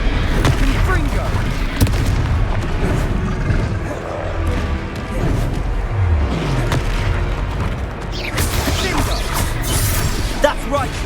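Repeated Confringo fire-blast spell explosions in Hogwarts Legacy, with booming impacts and crashes scattered through a chaotic battle, a voice occasionally shouting over the din.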